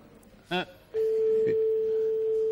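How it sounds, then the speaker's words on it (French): A telephone rings once on a call placed to the gendarmerie in Tulle, Corrèze: a brief buzzy burst followed by a long, steady, loud tone that holds to the end. "Première sonnerie"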